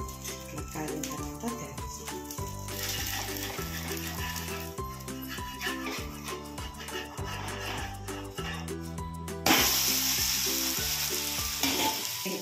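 Mini pesarattu, small moong dal crepes, fry on a griddle in ghee with onions and green chillies, a continuous sizzle under background music that swells louder near the end.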